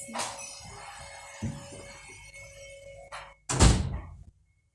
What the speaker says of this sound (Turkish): kapıyı örtüp geliyorum odamın kapı